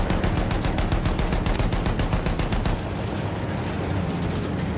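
Battlefield 1 gunfire and artillery, dense rapid bursts of shots and booming rumble that continue without pause, then ease into a softer sustained roar.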